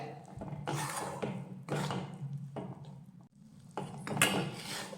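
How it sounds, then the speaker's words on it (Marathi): Wheat flour roasting in ghee over low heat while a spoon stirs it in a pan, giving repeated close scraping strokes in an uneven rhythm with quiet sizzling between them. "आता मंद आचेवर तुपावर हे गव्हाचं पीठ व्यवस्थित भाजून घेऊयात"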